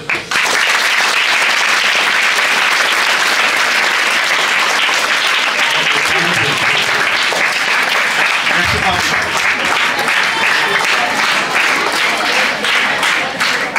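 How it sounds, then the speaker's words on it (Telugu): A school audience at a Republic Day celebration claps and applauds, a loud, dense and continuous burst of clapping from many hands. "మరి క్లాప్స్ కొట్టచ్చు."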